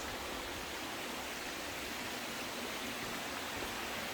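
A small waterfall at Tadfa in Chaiyaphum pours over old lava rock as a faint, steady, broadband rush with no break or voices.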